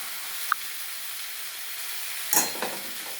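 Green chillies are dropped into a pan of spices and potatoes already frying, bringing a sudden burst of hissing sizzle over a faint steady crackle, close by with no talking.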